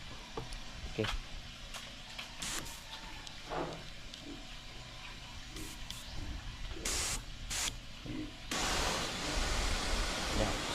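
A steady hiss of water spraying from a hose, with scattered clicks and knocks, growing louder and broader toward the end.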